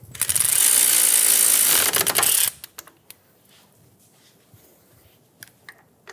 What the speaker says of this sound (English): using a 14mm socket, we're going to snug down the new union bolt